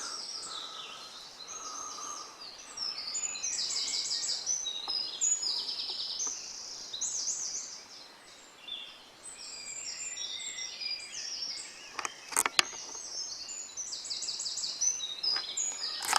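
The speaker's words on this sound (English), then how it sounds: "Birds are tweeting." Small birds chirp and tweet in repeated bursts at a moderate distance at a wild campsite in Scotland, with faint background hiss and a few sharp clicks near the end.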